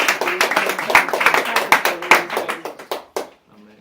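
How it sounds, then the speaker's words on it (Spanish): A congregation claps during a church service in quick, rhythmic bursts of sharp, close handclaps, with sustained musical tones underneath, before the clapping breaks off near the end. "Aplauda a Dios."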